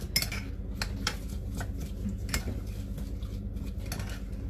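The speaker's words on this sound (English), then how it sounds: "Stir this mixture around the marinade and coat the pieces quite well" Brussels sprouts stirred in marinade in a bowl with a utensil, giving quiet, irregular clinks and scrapes against the dish, with several sharper taps and a soft rustle between them, and no one talking.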